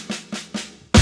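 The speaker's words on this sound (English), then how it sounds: "There it's the snare drum, but the bass is with it." A drum kit plays the snare drum together with the bass drum: three soft, evenly spaced hits followed by one loud, full struck beat, close and alone.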